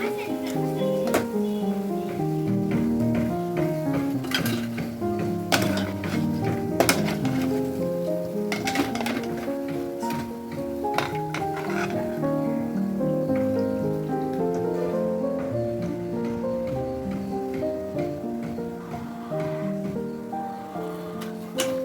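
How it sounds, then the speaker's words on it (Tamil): Bread pieces frying in a pan for a sweet bread halwa, a steady rain-like crackle of oil running throughout, partly masked by tonal background music. "அதே மாதிரி பேட்சாக வந்து இந்த ப்ரெட் பீஸை வந்து ஃப்ரை பண்ணி எடுத்துக்கலாம்."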